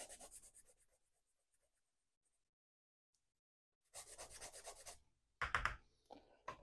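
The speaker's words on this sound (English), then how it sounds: "Just going to sand it." Short scraping strokes of an old sanding sponge on a small part from a 1/48 Kinetic EA-6B Prowler model kit, a brief burst at the start, then quiet, then two denser rubbing bursts near the end.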